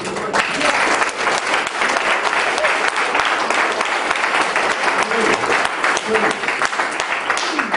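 Audience clapping breaks out in a crowded legislative hearing room on an end-of-life bill, steady dense applause sustained throughout at moderate loudness with faint murmuring underneath.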